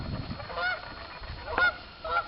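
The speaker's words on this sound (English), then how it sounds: "got some geese" Geese honk in a few separate bursts from a flock on a farm orchard and nursery, moderately near, with low rumbling background noise between the calls.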